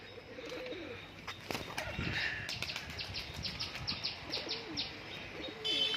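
Murshidabadi giribaz pigeons coo in low, repeated murmurs close by, mixed with small chirps and brief wing flaps.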